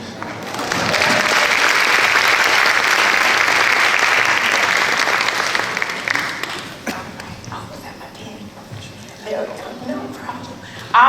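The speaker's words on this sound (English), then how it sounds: "let's give him another round of applause" Loud audience applause at a Fort Worth tribute event, dense clapping for about six seconds that fades out, followed by a quieter stretch with a few voices and scattered noise.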